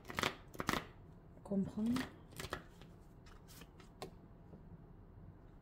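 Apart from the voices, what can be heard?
drawing a tarot card from the deck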